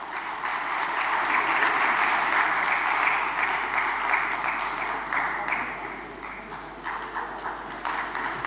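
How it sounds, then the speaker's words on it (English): An audience at a customs-organisation conference session gives a sustained round of applause during an on-stage felicitation. Dense, steady clapping fills the whole stretch, loud at first and easing slightly toward the end, with no talk over it. "Ladies and gentlemen, one round of applause once again."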